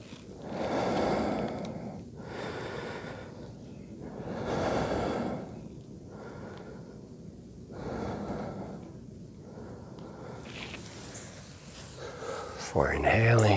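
Slow, deep breaths from a gentle yoga class rise and fall in a regular rhythm, each long inhale and exhale soft and close, with a brief rustle at the end.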